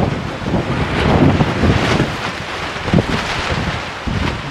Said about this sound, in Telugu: పెద్ద గాలి చినుకులు పడుతున్నాయి, కానీ గాలి మాత్రం విపరీతమైన గాలి.